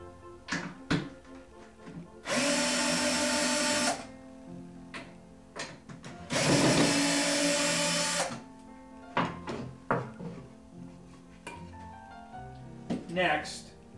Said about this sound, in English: You would remove the roof by backing out the four mounting screws.